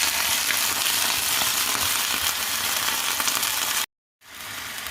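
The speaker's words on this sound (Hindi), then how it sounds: "जब गर्म हो गया है तो अब हम इसमें फ़िश फ्राई कर लेते हैं।" Fish frying in hot oil gives a loud, steady sizzle with broadband crackle, then cuts out abruptly for a moment near the end and returns slightly quieter.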